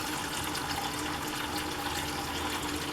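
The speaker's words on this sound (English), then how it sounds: "So get the cold water going." Cold tap water gushes steadily into a pot holding a turkey, a loud continuous splashing rush with no pauses and no talk.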